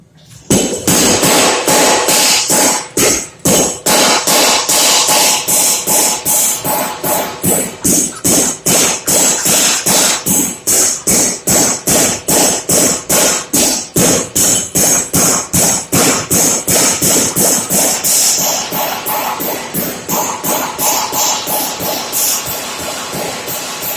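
A power hammer pounding metal in a fast, steady rhythm of loud, ringing blows, continuous and close for the whole stretch.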